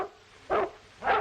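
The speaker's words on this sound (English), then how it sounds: "That dog isn't barking for nothing." A dog barks twice, each bark short and loud and roughly half a second apart, with a quiet hiss of background noise between them, in a 1936 western film.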